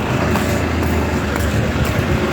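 A bus passing on the road makes a loud, close, steady engine and tyre roar that fills the whole moment with no break, and no voices are heard.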